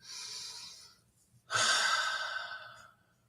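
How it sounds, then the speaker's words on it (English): Two slow, deep breaths close to the microphone: a long airy inhale, a brief pause, then a fuller, louder breath that tapers off gradually, with no talking. "So take a big, deep breath"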